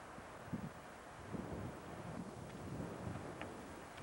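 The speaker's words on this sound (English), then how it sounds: "You hear the wind." Wind blowing across open ground at a mound site, a broad, steady rush buffeting the microphone with a few low gusty thumps, no voices.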